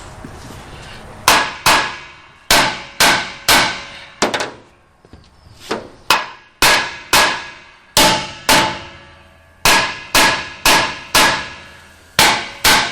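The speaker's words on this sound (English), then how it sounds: "hand me a hammer. on that bench there. Let's see if we can knock this thing loose." Repeated sharp metallic hammer blows knocking a truck hitch loose, struck in quick pairs and short bursts with brief pauses between them, loud and close with ringing clangs.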